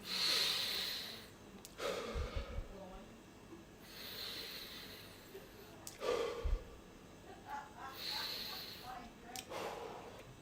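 Slow, deliberate breaths drawn in and out during a mindful breathing exercise, several long airy inhales and exhales spaced a few seconds apart, close to the microphone over a faint background hiss.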